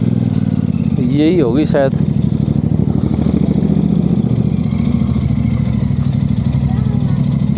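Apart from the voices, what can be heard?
motorbike engine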